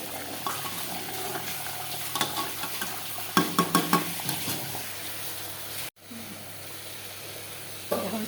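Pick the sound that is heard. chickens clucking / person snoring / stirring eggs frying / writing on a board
stirring eggs frying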